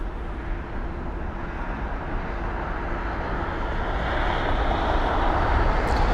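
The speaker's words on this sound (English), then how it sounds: "the next arrival is going to be BA1449 in a British Airways A320neo, and it's the arrival from Edinburgh" A British Airways A320neo airliner arriving from Edinburgh at London Heathrow, a broad rushing roar that builds gradually in loudness over several seconds, heard alone with no talking.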